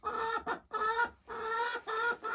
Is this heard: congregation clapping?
no